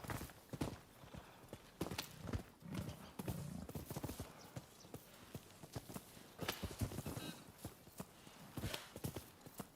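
Horse hooves clip-clop in an uneven rhythm on a hard surface, close by, with an occasional whinny mixed in.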